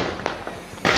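Firecrackers bursting during Diwali night celebrations in Kotdwar, heard as a few sharp pops at mid-distance followed by a louder, sustained crackling burst near the end, with no talking.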